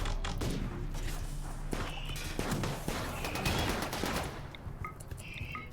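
Gunfire clatters in RimWorld, a rapid series of crisp, mid-volume shots in irregular bursts over a busy background of impacts.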